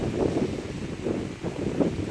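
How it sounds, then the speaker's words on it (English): Strong wind buffets the microphone in loud, rumbling gusts that swell and fade, with no voices present. "Too windy, which means that it's gonna be cold."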